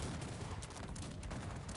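Heavy cannon fire in the strategy game Cossacks 3 rumbles as a steady, faint barrage of overlapping booms with no clear gaps between shots.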